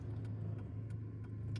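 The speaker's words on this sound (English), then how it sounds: "Big giant truck driving too fast" A big truck drives past fast, heard as a steady low rumbling drone throughout, fairly faint and without speech.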